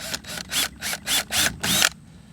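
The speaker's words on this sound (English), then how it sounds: "Mark the hole and drill the hole." A power drill whirs in a series of short bursts, about six pulses in a row, loud and close, then stops, while drilling a hole in a kayak.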